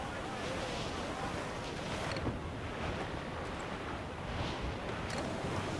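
Sailing ship moving across ocean waves in the game Assassin's Creed 4 Black Flag, heard as a continuous broad rush of surf and wind, steady and fairly loud, with faint creaks now and then.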